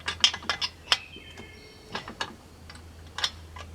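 A bolt on the mounting bracket of a sawmill log roller is tightened with a ratcheting tool, giving a few close, sharp clicks in irregular bursts with pauses between them. A low steady hum runs underneath.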